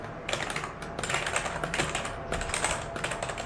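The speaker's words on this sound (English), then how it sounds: "Now I will type something here." Rapid typing on an ANT Esports wireless RGB gaming keyboard with tactile, slightly clicky keys, a close, dense patter of keystrokes running continuously with brief pauses.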